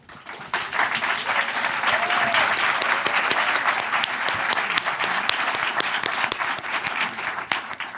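An audience applauds at a televised Los Angeles mayoral debate between two candidates, a dense, sustained burst of many hands clapping that rises quickly and holds steady for several seconds.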